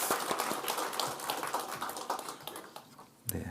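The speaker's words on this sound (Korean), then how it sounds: "예, 박수로 환영하겠습니다" Church congregation applauding to welcome two deacons during a Sunday worship service, a steady patter of hand clapping from a sizable room with no voices, ending in a brief louder burst.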